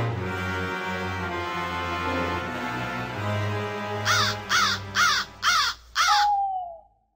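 Five harsh crow caws ring out in quick succession, loud and close, over a low droning musical backdrop that fades away, with a final drawn-out call at the end.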